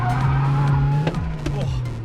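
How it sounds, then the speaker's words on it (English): A Mazda MX-5 on a skid pan holds a high, steady engine note bouncing off the rev limiter, with tyre squeal mixed in and a voice briefly exclaiming over it. "Oh, that's so much rev limiter."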